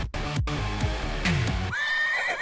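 A horse neighs loudly and close, a drawn-out whinny with a quavering tail, with faint clip-clop hooves at the start.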